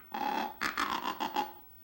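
Duck call imitating the burring sound of diver ducks such as bluebills or canvasbacks: a steady rolling burr followed by a quick string of four or five rough, pulsing notes, close and fairly loud, alone.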